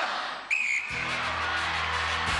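Referee's start whistle at a UK Gladiators celebrity challenge in 1994, a single short shrill blast followed by a surge of loud crowd and show noise.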